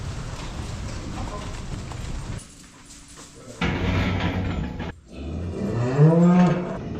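Cattle at a farm handling system bellow in repeated drawn-out moos, the loudest a deep close call near the end, over steady outdoor background noise.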